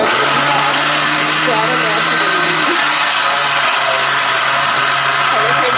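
A mixer grinder whirs loudly and continuously while grinding gooseberry chutney powder, a steady close motor hum with slight shifts in pitch and no pauses.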